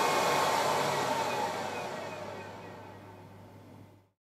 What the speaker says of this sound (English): The printer will begin testing the fans.